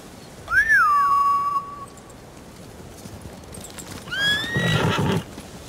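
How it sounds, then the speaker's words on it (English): Samurai horses in the video game Ghost of Tsushima give two loud, close whinnies a few seconds apart over a low ambient rumble, no talk. "They're samurai mounts, trained to return to their masters."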